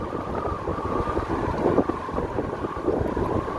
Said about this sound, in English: That's why y'all hear the wind so, like, you'll be whistling